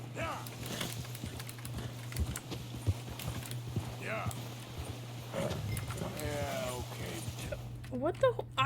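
Horse hooves clop in Red Dead Redemption 2 in an uneven, repeated rhythm under a steady low game hum, with occasional animal calls and a voice talking over them.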